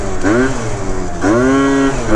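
A 70cc Yamaha BWS scooter on its stock exhaust pipe revs hard twice, each rise climbing in pitch before easing off, loud and close.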